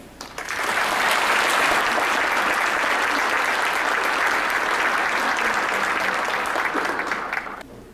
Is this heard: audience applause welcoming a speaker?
yes